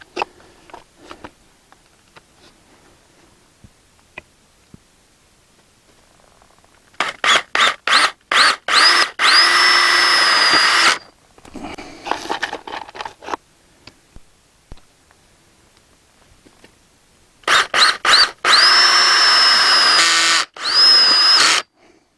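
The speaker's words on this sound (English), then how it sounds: "We're going to get the self-tapping screws." A power drill drives self-tapping screws while stringing up a garden tomato support, with two loud close bursts of whirring motor that rise in pitch and strain as each screw bites, separated by quiet handling clicks.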